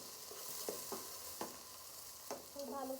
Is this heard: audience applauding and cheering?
no